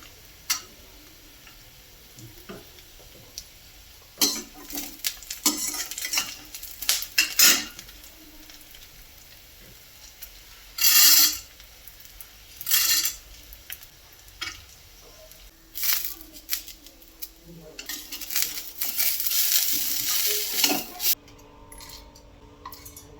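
Onion and coconut are stirred in a frying pan, with intermittent metallic scrapes and clinks of a spoon against the pan over a faint, low sizzle, and the louder bursts come in irregular clusters.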